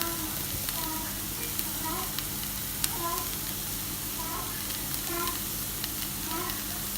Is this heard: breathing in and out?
no